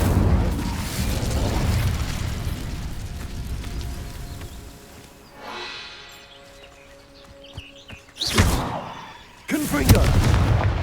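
The Incendio fire spell cast in Hogwarts Legacy: loud fiery bursts, a heavy rumbling blast early on, then two sharp, explosive surges near the end, over a busy game soundscape.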